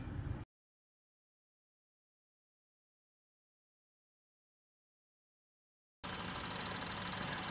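A 2019 Ford Fusion SEL engine idling, heard briefly at the start and then again at the end as a steady close mechanical hum, with a long stretch of total silence between and no speech.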